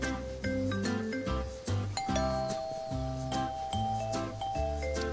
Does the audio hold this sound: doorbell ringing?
yes